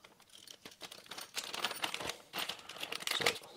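Plastic packaging of a Creality auxiliary fan for an Ender 3 printer being opened up close, quiet crinkling and crumpling in irregular bursts that grow louder toward the end.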